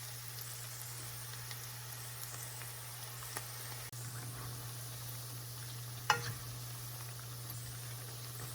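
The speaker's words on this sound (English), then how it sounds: "I'm gonna remove them and fry the rest." Onion pakora fries in hot oil with a steady, faint, hissing sizzle throughout, plus a low hum and one brief clatter near the end.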